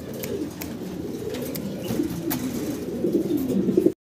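Pigeons coo in low, throaty murmurs, several birds overlapping close by against a steady background hum, with no one speaking.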